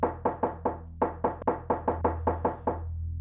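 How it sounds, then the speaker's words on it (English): Rapid, feverish knocking on a wooden door, a dozen sharp close knocks in uneven bursts, with no voices. "up the driveway to Lucas's house, and Magpie starts feverishly knocking on the door."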